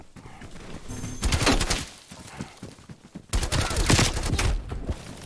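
Video game gunfire in a hardpoint match, heard as bursts of dense rapid shots in two loud stretches with a brief lull between them, fairly close and alone without talk.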